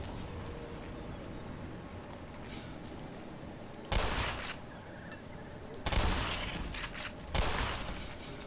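Shotgun blasts in Black Mesa ring out as several loud, broad bursts, some spaced a second or two apart, over continuous game ambience, with a voice talking under them.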